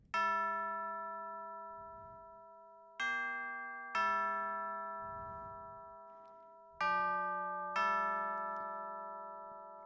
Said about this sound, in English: It's also called bell, but it's a church bell.